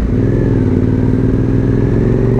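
An Aprilia Dorsoduro 1200 motorcycle accelerates in fourth gear, its engine droning loud, steady and close with a rough pulsing rumble and no speech.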